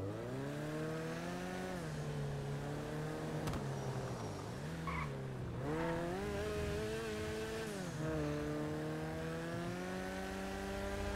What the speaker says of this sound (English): it sounds like it's got a bike engine in the back